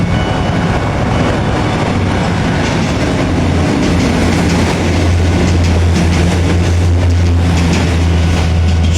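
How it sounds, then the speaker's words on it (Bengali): A small train passes in Bangkok, Thailand, with a loud, close, continuous rumble, rhythmic wheel clatter and a low steady drone throughout. "এই হচ্ছে থাইল্যান্ডের ট্রেন"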